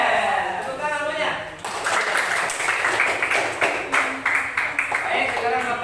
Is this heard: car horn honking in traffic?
no